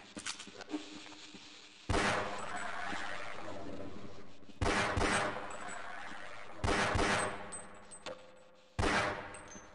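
A weapon in Half-Life: Blue Shift fires four loud, widely spaced shots, each a hard crack followed by a lingering ringing tail, with light clatter between them.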